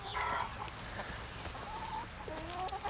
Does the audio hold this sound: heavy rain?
no